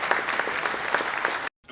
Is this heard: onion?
no